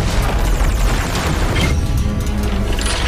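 Laser cannon blasts striking a monster in an animated film, a dense, loud, continuous barrage of booming hits and crashes with no pauses.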